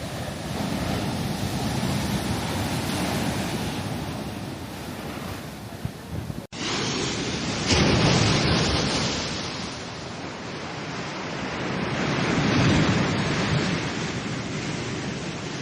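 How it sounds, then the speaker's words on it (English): Big ocean waves breaking and washing up on a wild Hainan beach, a steady loud roar of surf with wind buffeting the microphone and a swell building again toward the end. "Compared with Ryu Bay and Qiongzhou Bay, here, the waves are much bigger."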